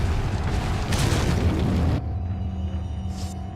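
A grenade going off in Resident Evil 4 gives a loud, broad booming blast lasting about two seconds, then dies into a lower rumble with a faint hiss near the end.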